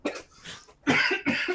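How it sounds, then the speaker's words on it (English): A person coughs in several bursts, two weaker coughs followed by two strong, harsh ones, close and clear with no other sound around them. "That's pure coincidence that I'm coughing"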